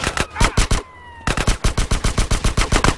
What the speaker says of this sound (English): Stop shooting at me, man!